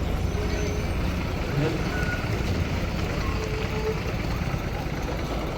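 Buses move through Khanapur bus stand while a repeated reversing beep sounds over steady diesel engine rumble and broad yard noise, with faint voices in the background.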